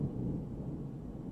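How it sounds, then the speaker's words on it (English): Deep, low rumble of distant thunder rolling steadily for a moment, with no other sound present. "Ooh, thunder."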